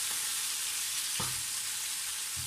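Meat sizzling in a pan with garlic and onions, a steady broad hiss of frying with a couple of brief louder crackles, close by and free of talk.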